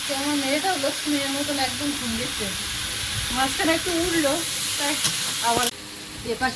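Dried chillies and garlic frying in oil in a wok give a steady, close hiss and sizzle, with a voice talking over it throughout.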